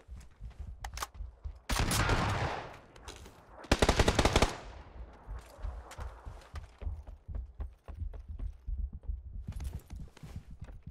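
Gunfire in a video game, a shooter match fought with a shotgun, comes as sharp repeated shots and bursts, with a louder cluster of blasts midway over a busy clatter of in-game sounds and no voices.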